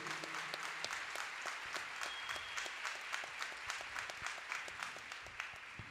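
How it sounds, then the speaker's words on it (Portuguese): An audience at a formal solemn session applauds a samba school master-of-ceremonies figure, with many distinct individual claps standing out in a steady, fairly distant round of clapping lasting several seconds. "eu queria uma salva de palmas para o mestre Sala dos Mares"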